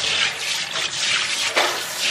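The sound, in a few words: water from a faucet attachment on a tap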